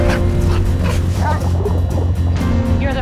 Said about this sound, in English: There's a dog.